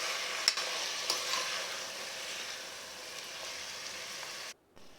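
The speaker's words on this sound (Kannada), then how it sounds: "ಒಗ್ಗರಣೆನೆಲ್ಲ ಸ್ವಲ್ಪ ಹೊತ್ತು ಬೇಯಲಿ." Onion, tomato and field bean tempering sizzles steadily in a pan while being stirred, a close, continuous frying hiss with a few light scrapes, cutting off abruptly near the end.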